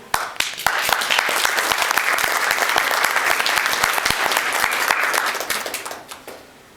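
A crowd at a Phi Theta Kappa honor society induction ceremony applauds its inductees, with sustained, dense clapping that stays loud and steady, then tapers off toward the end.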